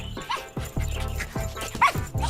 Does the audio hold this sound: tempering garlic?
no